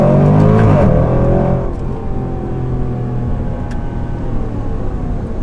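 A 2020 Range Rover Sport SVR's exhaust roars loudly as the SUV accelerates in manual mode, the engine note climbing through a rev before easing into a steadier, lower rumble.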